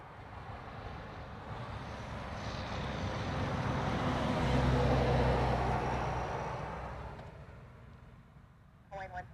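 An Antonov An-124 Ruslan cargo jet arrives at Honolulu airport, its distant engine roar swelling to a broad peak mid-clip and then fading, with wind noise and soft voices mixed in.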